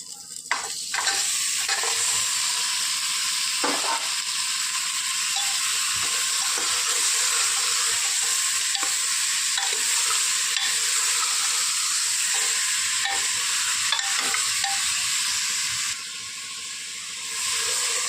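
Onion fries in hot oil in a pan while making goat mutton curry, a loud, continuous close-up sizzle with scraping stirs throughout, easing slightly near the end.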